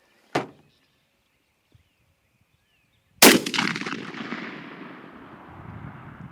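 A shotgun fires a single turkey load outdoors, loud and close, with a long echoing boom that rolls away for several seconds, preceded by a brief sharp click-like knock.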